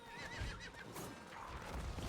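A horse in the Diablo 4 video game gives a clear neigh with a wavering whinny, accompanied by soft clip-clop of hooves, fairly close and alone without talk.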